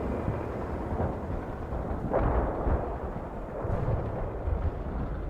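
A heavy artillery barrage in the strategy game World in Conflict, a dense continuous rumble of distant blasts rolling together with a few brighter booms rising out of it.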